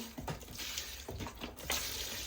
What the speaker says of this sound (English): I'm pouring the vinegar in here, and then I'm going to add water to it.